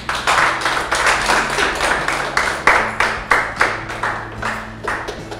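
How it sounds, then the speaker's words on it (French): An indoor audience at a sales management training session claps steadily together, a dense ongoing round of applause with rhythmic hand claps, loud and close. "Applaudissez pour vous-même quand même."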